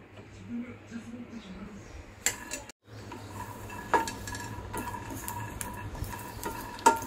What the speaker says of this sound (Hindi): सबसे पहले हम मूंगफली को रोस्ट करते हैं थोड़ा सा नॉर्मली एक पैन में डालकर विदाउट एनी